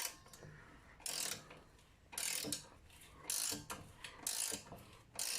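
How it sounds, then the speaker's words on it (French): A 17 mm wrench loosens the chain adjuster lock nut on a Jinlun JL125-1 motorcycle, making repeated bursts of metallic ratcheting clicks in four or five close runs, with quiet gaps between them. "Je retire un peu le contre-écrou."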